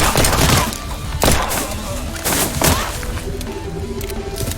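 Gunfire in the video game Scarlet Shell, a Springfield rifle among the weapons, rings out as several loud, sharp bursts at irregular intervals over a busy in-game background.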